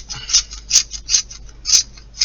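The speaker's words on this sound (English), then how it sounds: "Always handy to have a pencil sharpener next to you when you're colouring in." A handheld sharpener grinds a coloured pencil in quick rhythmic scraping strokes, close and crisp, about six twists in two seconds, with no talk.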